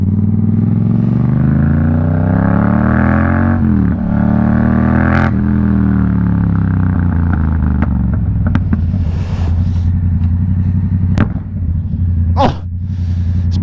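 A Yamaha MT-07 motorcycle engine revs loudly and close, its pitch climbing and falling in sweeping pulls before settling to a rumbling idle broken by sharp clattering snaps.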